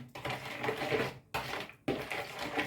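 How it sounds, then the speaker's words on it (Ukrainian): A spoon works through Easter bread batter of warm milk and flour in a bowl, scraping in steady bursts broken by two brief pauses, close and clear with no talking. "Гарно перемішуємо, щоб комочки розчинилися."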